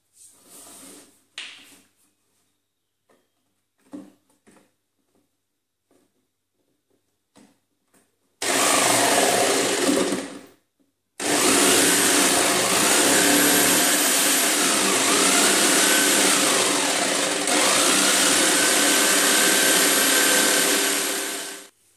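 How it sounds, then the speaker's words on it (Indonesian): After a few quiet taps and knocks, a power jigsaw whines loudly in two long bursts, its buzzing motor rising and dipping as it cuts through a plastic rain gutter. "Bisa menggunakan gergaji, tapi kalau mau cepat juga kita lebih baik menggunakan jigsaw."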